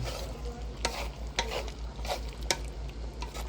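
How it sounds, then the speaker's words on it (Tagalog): Pork binagis being stirred in a pan: a spatula scrapes and knocks against the metal in a run of sharp, irregular strokes over a low, steady background hum, with no talking. "Ito guys, haluin na natin."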